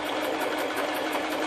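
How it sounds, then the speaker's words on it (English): A Cooper Pro Deluxe Mk II sewing machine runs steadily while stitching its widest zigzag, a loud, continuous, rapid mechanical whirr with an even pulsing rhythm. "there goes the widest possible zigzag you can get"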